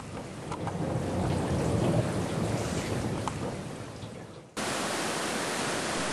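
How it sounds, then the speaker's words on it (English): Heavy rain drums steadily on the jungle canopy at night in Cambodia's Virachey area, a dense, loud wash of noise that runs without a break, with a sharp cut partway through. "the drumming of the rain soon sends me to sleep."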